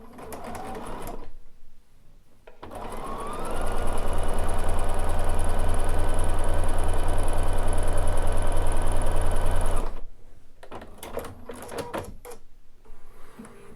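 A Bernina sewing machine with an edge stitch foot stitches lace, humming steadily and loudly for several seconds between bursts of clicking, fabric handling and quiet pauses.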